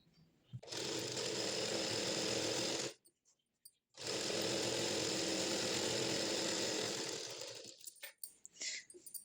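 A sewing machine stitches a patiala pant in two loud, steady runs of rapid whirring separated by a short pause, followed by a few fainter stops and starts.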